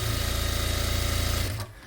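A sewing machine runs steadily at close range as it stitches the seam of a child's skirt, a fast even mechanical rattle that stops abruptly near the end.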